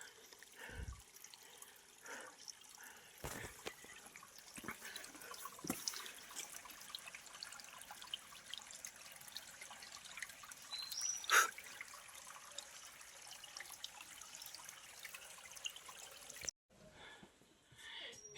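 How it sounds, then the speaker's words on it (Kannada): Water trickles and drips steadily at a trailside water source on the Kumara Parvatha trek in the mountains, a faint continuous flow with occasional louder splashes and knocks. "ನೋಡ್ತಾ ಇದ್ರೆ ಅಲ್ಲಿ ನೀರು ಹರಿತಾ ಇದೆ"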